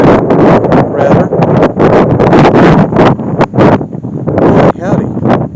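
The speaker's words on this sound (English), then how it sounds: "It got windy out this afternoon." Gusty wind buffeting the microphone near the Grouse Creek stone arch bridge, a loud, continuous rumbling roar that surges and dips in irregular bursts, with no one speaking.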